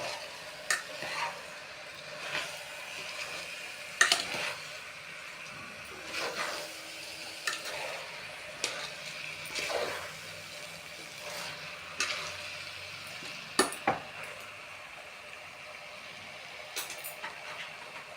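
Biryani rice being stirred in a frying pot, a soft continuous sizzle beneath regular scraping strokes of a spoon against the metal, repeating every second or two, fairly quiet and without talking.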